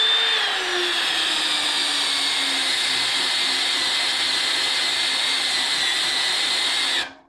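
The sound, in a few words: spot weld cutter drilling out spot welds on car core support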